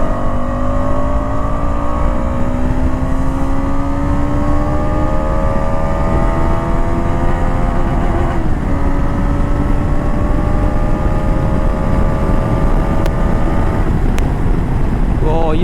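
A KTM 250 Adventure motorcycle's engine climbs through the gears in long rising revs past mid RPM, loud and close over heavy wind roar, with shifts between each pull.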